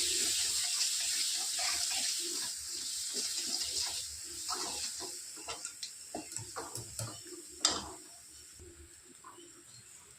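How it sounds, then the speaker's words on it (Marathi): A mixer jar rinsed under running water, with a steady trickling stream followed by a series of small splashes and knocks nearby. "मिक्सरचं भांड धुवून थोडंसं पाणी नकळ"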